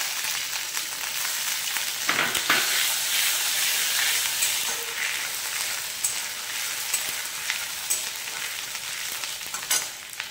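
Nigella seeds, asafoetida and ginger-green chili paste dropped into hot oil, a bright continuous sizzle and crackle with occasional stirring scrapes, close and steady, with no talking.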